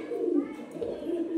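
A pigeon gives a brief, low cooing call, close by, with a voice talking over it.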